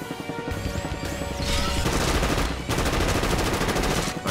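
Rapid bursts of gunfire from a gun in the video game Dead Sky rattle loudly and almost without pause, layered over the game's music and effects.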